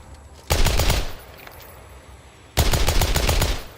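Two sustained bursts of rapid automatic fire from an air-cooled machine gun in The Outer Worlds 2, each loud and dense, the first about half a second long and the second running longer, with a quiet gap between them.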